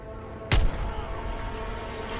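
A single loud, close rifle shot rings out in the World War II shooter Call of Duty: WWII, a sharp crack with a booming tail that decays over ambient battle noise; no one talks.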